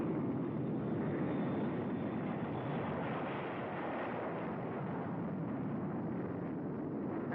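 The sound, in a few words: pilotless drone jets flying at super speed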